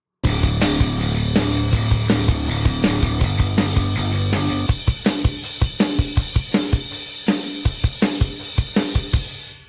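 A song plays loudly with steady halftime drums, then the beat speeds up into a driving double-time pattern for the final bars, with sharp, evenly spaced hits toward the end.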